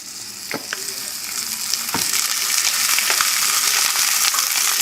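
Pork hock skin frying in hot oil in a pan, a loud steady sizzle with scattered pops and crackles throughout and occasional stirring, with no voices.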